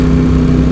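A Ducati 916 motorcycle engine while riding on a cold day, a loud, steady droning hum for under a second with no pauses and no voices.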